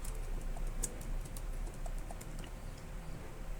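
Light, quick typing on a computer keyboard, a steady patter of faint key clicks over a low constant hum.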